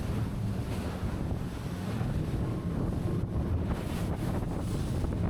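A Technohull GTX powerboat runs through choppy waves in strong wind, with loud buffeting wind and water slapping the hull in uneven surges and a rough, rushing roar throughout.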